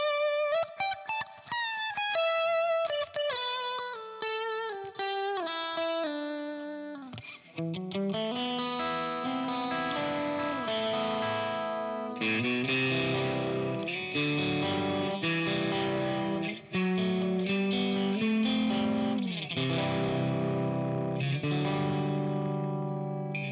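A distorted electric guitar through 4x12 cabinet impulse responses mixing V30 and K100 speakers plays single notes, then heavy chugging chords, crunchy and saturated, with no voices.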